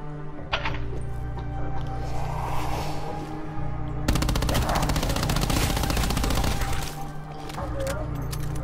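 Rapid machine-gun fire from a Call of Duty: Black Ops 4 zombies survival match, loud and sustained with dense bursts that stay continuous through the second half, layered over the game's background noise.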